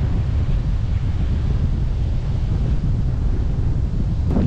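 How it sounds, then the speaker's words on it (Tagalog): Waves and wind at the shore at low tide, a steady, loud wash of surf and gusting air buffeting the microphone, with no voices. "Yan ang dagat namin ngayon mga kasinag."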